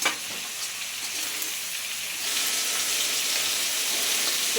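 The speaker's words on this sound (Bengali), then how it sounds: "মশলার গন্ধটা যাওয়া পর্যন্ত বন্ধুরা আমি খুব সুন্দর করে ভাজবো এটা।" Rice fries with spices, green chilli and tomato for bhuna khichuri, giving a continuous, even sizzle that swells slightly halfway through, with no talking.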